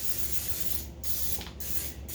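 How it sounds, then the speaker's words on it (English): Three short hissing bursts of butter cooking spray being sprayed into a meatloaf pan, close and quiet, evenly spaced with brief pauses between them. "This is like a spray butter, but you can use anything to keep it from,"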